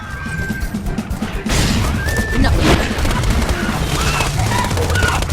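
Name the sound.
gunfire in video game Borderlands 2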